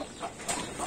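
Aseel hens and chicks clucking softly nearby, a few faint, short clucks and chirps over a brief moment without any talk.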